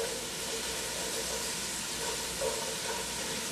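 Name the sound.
shallots sizzling in olive oil in heated pot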